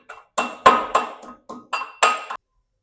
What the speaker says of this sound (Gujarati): એક ખાંડણીમાં આપણે લસણ અને મરચાંને ખાંડી લઈશું।